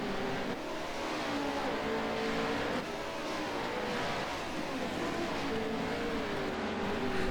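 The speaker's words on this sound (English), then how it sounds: "If you can listen to Cameron's engine here, you can tell he's down on power." A heavy Pro 4 race truck engine in a racing video game drones steadily with a rough, uneven tone, down on power and sounding strained as it runs continuously without voices.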